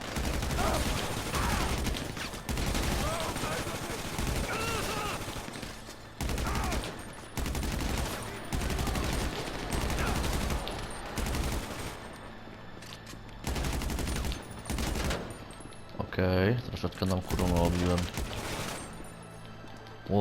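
Gunfire in the video game Grand Theft Auto V, a fusillade of shots in repeated bursts that stays loud throughout and mixes with game sounds, while people talk over it.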